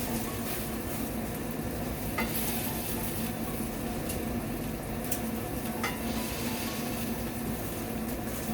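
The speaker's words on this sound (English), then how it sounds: "we're going to go ahead and toast our bread now" Bread for a duck Reuben sandwich toasting in a hot pan gives a steady, close sizzle throughout, with a few faint scrapes and taps of stirring on top and no talking.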